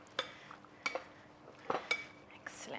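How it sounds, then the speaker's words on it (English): Enchilada ingredients are stirred in a bowl with a utensil, giving a few sharp, scattered clinks and scrapes against the dish, quiet and close, with no one talking. "Give that a good mix."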